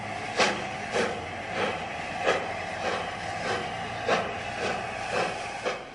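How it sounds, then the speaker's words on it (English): An LNER A4 Pacific steam locomotive departs Kings Cross with a semi-fast passenger train, its exhaust beating in a steady series of sharp chuffs over a constant hiss, heard at moderate distance. "A4 Pacific 60034 Lord Farringdon departs with the 6:26 semi-fast for Doncaster and Hull."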